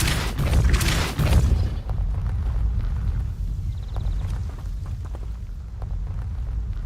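Depulso spell cast in Hogwarts Legacy, a loud whooshing burst lasting about a second and a half, followed by quieter game ambience with small clicks and thuds.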